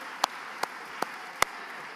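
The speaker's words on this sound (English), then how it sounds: "Clap for yourself." At a Biafra independence day gathering, audience members clap for themselves in four slow, evenly spaced single claps, crisp and distinct, over a quiet background.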